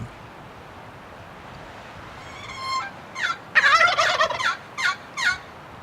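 Wild turkey gobblers gobble outdoors, a run of loud rattling calls in quick bursts after a quiet stretch with light wind noise.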